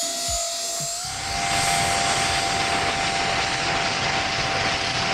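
A high-speed radio-controlled SR-71 model jet plane flies and accelerates hard, its loud, steady engine whine rising in pitch after the first second and holding a sustained roar close by.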